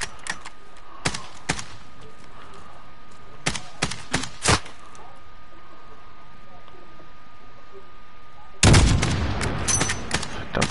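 Gunfire in the Call of Duty video game: several sharp single shots and short bursts spread across the stretch, then a dense, loud volley near the end, with no speech over it.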